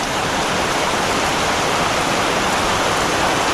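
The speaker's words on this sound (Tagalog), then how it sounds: "Yan o, umulan na naman. Lumakas pa." Steady, dense rain pours down over a farm plot where okra is being grown, a loud, unbroken wash of falling water with no clear drops standing out and no talk.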